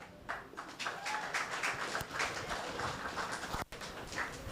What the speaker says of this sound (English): Round of applause for Flo